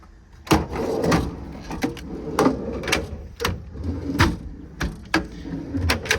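Metal C-Tech tool drawers in the compartment of a 2019 International MV607 service truck sliding open and shut, a series of short rolling rattles and clunks at irregular intervals, close and fairly quiet.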